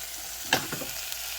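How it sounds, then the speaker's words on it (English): Chicken skin frying in a pan, fat rendering off, with a faint steady sizzle and one brief louder crackle near the middle. "just burning off the excess fat and getting a bit of colour on the skin"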